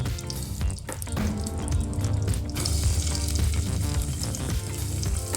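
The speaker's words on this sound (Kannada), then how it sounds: "ಈರುಳ್ಳಿ ಹಾಕಿದ್ದೀನಿ. ಸೊ ಈರುಳ್ಳಿ ಈಗ ಫ್ರೈ ಆಗಬೇಕು." Chopped onions sizzle and crackle in about two spoons of hot oil as the base of a hyacinth bean masala curry, a steady close frying hiss with occasional stirring clinks and no voices.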